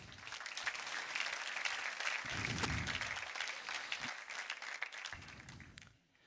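An audience at a Christian talk breaks into applause, a dense steady wash of clapping that holds for several seconds, moderately distant, then fades out abruptly at the end.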